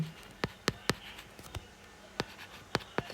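A pen scratches out a trigonometry equation on paper, a series of faint, sharp strokes and taps in an irregular rhythm, close and quiet with no talk over it.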